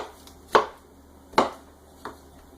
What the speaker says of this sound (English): I'm just going to take a knife and kind of break them down a little bit more